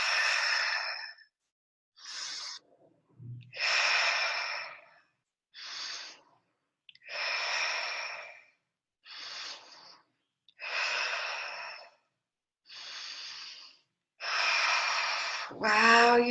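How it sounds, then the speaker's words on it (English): Slow, deep breaths during a guided calming exercise, about nine long inhale-exhale bursts spaced by short pauses, close and fairly loud, with no talking over them. "Let's take a deep breath."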